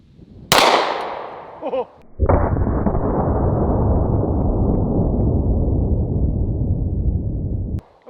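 A 10mm pistol loaded with full metal jacket rounds fires a single loud, sharp report. A long, loud rushing noise follows for several seconds, and a person gives a brief exclamation.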